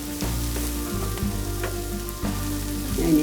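Chilli chicken fries in a pan as tomato sauce and other sauces are stirred in, a steady sizzle under a low hum, with several clanking stirs of a spatula and no talk.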